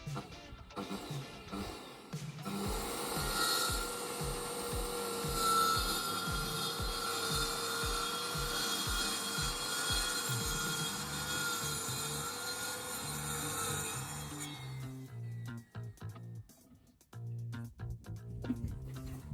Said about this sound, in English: I'll run the saw the whole way along that line, and that'll give me a nice straight cut the whole way along